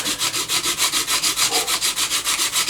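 Sandpaper worked back and forth over a wooden guitar headstock, an even, rhythmic rasping with about six strokes per second, close and loud, no voices.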